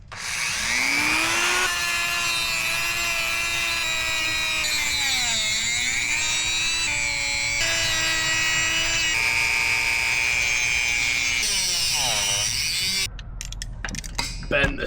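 A 30-year-old Dremel rotary tool cuts through metal parts while installing a Ford Super Duty lift kit. It gives a loud, close, high-pitched whine that dips under load several times, then stops, leaving clanks and handling noise.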